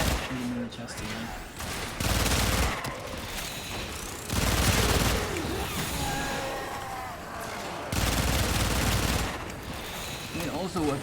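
Rapid bursts of gunfire blast at the boss Sargas Ruk in the video game Warframe, loud clustered volleys recurring every couple of seconds, with game effects and a voice talking between shots.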